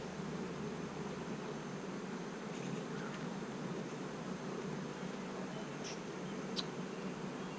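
Honey bees buzz steadily in an open hive during a mite inspection, a soft continuous hum that stays faint and even throughout with no voices.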